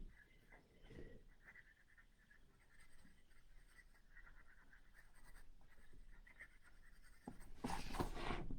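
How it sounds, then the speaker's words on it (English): A black colouring pencil scratching across paper makes soft, continuous scribbling strokes, faint and close, with slightly louder rubbing near the end. "So here I've just gone straight in with a black colouring pencil."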